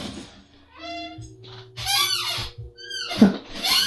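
A very old office chair creaks loudly up close, giving a string of high squeaks and groans in separate bursts as it is shifted and rocked.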